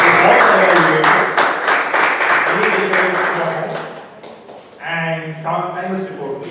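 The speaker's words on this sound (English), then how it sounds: "I request all of you to give good big round of applause to all the evaluators" Audience applause at a Toastmasters club meeting in Mussafah, dense clapping loud from the start, fading toward the end, then voices and a brief tonal sound take over.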